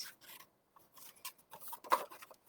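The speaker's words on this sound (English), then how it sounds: "I am going to cut in from my side" Scissors snip through patterned designer paper while a gift bag is being cut in from the side, a few short quiet rasping cuts with brief pauses between them and one slightly louder snip near the end.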